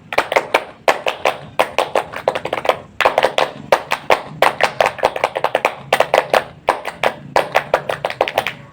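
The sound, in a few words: Indonesian scout clapping pattern, tepuk pramuka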